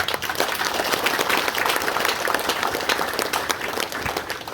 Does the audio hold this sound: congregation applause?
yes